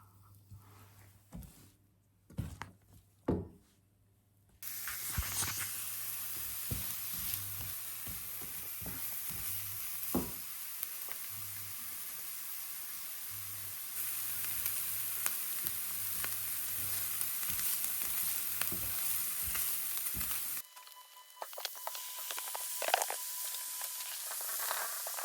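Tomato spaghetti sauce sizzles and fries steadily in a pan, with a bright continuous hiss. A few sharp knocks of utensils come first, and the sizzle dips briefly near the end.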